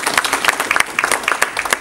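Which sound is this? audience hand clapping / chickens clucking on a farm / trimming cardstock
audience hand clapping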